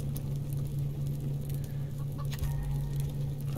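Chickens clucking in the farming survival game Subsistence, soft scattered clucks and pecking over a steady low hum from the game's ambience.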